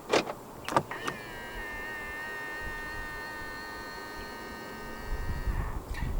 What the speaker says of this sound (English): To lock the car, press the indented area on any of the 4 door handles.